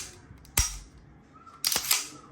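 A Colt Competition Series 70 .45 ACP pistol is cleared with two sharp metallic clacks about a second apart, close and loud, with quiet handling in between.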